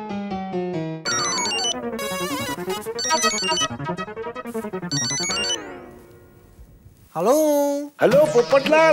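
A melodic electronic ringtone plays loudly, with a short musical jingle toward the end and a person speaking briefly between.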